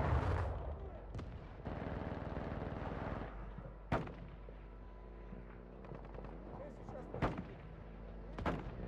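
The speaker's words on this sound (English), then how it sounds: "You are taking effective fire." Gunfire and explosive booms in Warzone DMZ on PS5, a steady rumbling battle din broken by several sharp distant shots and one louder crack, with a radio-style voice speaking over it.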